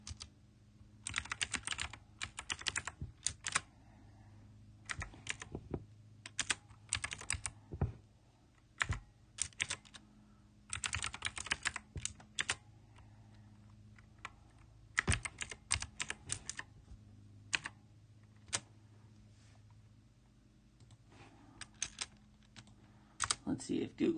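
Bursts of rapid clacking from a clicky mechanical computer keyboard, close and crisp, broken by short pauses over a low background hum.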